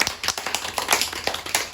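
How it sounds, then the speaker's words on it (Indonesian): A small group in a classroom gives a brief round of applause, uneven hand claps coming in quick scattered bursts for under two seconds. "kita kasih tepuk tangan"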